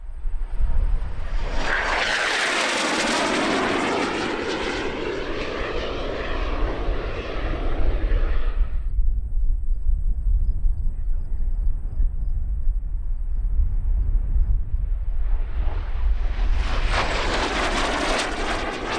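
A T-2 Buckeye jet trainer makes a loud flypast at a vintage warbird airshow, a roaring whoosh that builds, holds and cuts off, followed by a quieter lull before a second pass swells in near the end.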